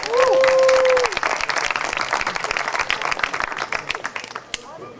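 Audience applause at a youth summer academy lecture, a dense wash of many hands clapping that starts loud and tapers gradually over five seconds, with a brief tonal chime at the very start.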